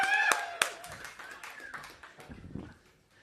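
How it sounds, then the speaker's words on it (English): Audience applause for a chef at a food festival: a crowd of hands clapping, starting fairly loud with sharp claps, then thinning and fading out over about three seconds. "let's give him a massive round of applause"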